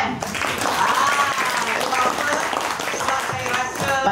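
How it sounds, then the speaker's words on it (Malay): An audience at a press event for the Malay film Nar'Sata claps in sustained applause while voices carry over it. "Bagi tepukan."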